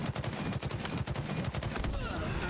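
Rapid bursts of gunfire from the Halo Infinite online shooter, a dense rattle of repeated shots running nearly nonstop for a couple of seconds, loud and close.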